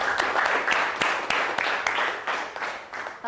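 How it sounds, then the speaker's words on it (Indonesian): A classroom of students claps for a classmate, a short burst of brisk, dense applause that holds steady and then tapers off. "Tepuk tangan untuk Nadia."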